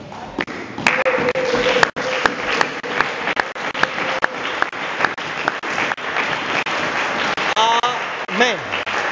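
A church congregation at a French-language prophetic service breaks into applause and cheers, loud and continuous clapping with scattered shouts and voices through the crowd, and a few sharp knocks near the start.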